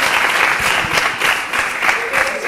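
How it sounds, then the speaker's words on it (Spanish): Audience applause at a school show with IES Clot de l'Illot in El Campello, dense clapping from a full room, steady and loud for the whole stretch with faint crowd murmur beneath. "quiero que le deis un fuerte aplauso a mi compañera Paula con su sección Por la Pasta."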